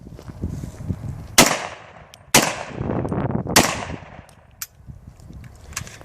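Gunshots from a firearm loaded with reloaded cast bullets at an outdoor shooting test, three sharp loud cracks about a second apart, followed by fainter clicks and handling noises.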